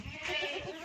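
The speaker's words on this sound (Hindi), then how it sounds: "ये देखें 5 बकरी आज आपको दिखाई हैं" A single Rajanpuri Gulabi goat kid, part of a group of kids and does, gives one short, close, wavering bleat that stands alone without talk.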